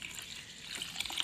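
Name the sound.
water being poured into gram flour batter for kadhi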